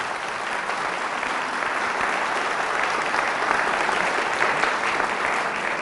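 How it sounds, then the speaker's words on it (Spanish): A church congregation applauds loudly and steadily for Jesus of Nazareth during a healing and deliverance service, a dense, continuous wash of clapping with no break. "Fuerte ese aplauso a Jesús de Nazaret"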